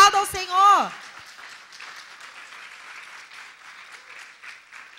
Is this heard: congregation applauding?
yes